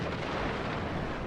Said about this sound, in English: That's the explosive shot that I wanted